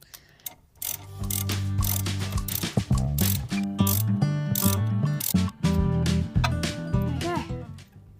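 A ratchet clicks rapidly in bursts while loosening a front suspension bolt on a Subaru Brumby being restored, close and fairly loud with short pauses between strokes.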